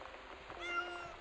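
A human voice imitates a cat's meow in one drawn-out, faint, tonal call during a PS4 live broadcast, thin and nasal over low background hiss.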